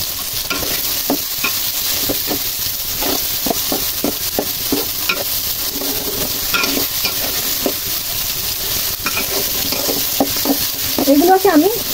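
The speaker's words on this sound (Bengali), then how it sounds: "এগুলোকে আমি উচ্চ তাপে ভেজে নিচ্ছি" Whole spices, among them black pepper, cloves, nutmeg and star anise, sizzle in oil in a hot wok while a utensil stirs them, giving a steady close frying hiss broken by regular scraping strokes.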